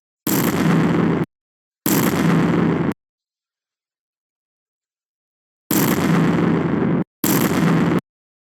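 Four separate explosion sound effects in a Scratch shooting game burst loudly, each lasting about a second and cut off abruptly, two early and two in quick succession later, with silence between.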